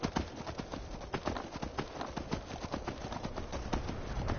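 Rapid, steady hoofbeats of a galloping horse in a video game, a continuous drumming rhythm at close range with no voices.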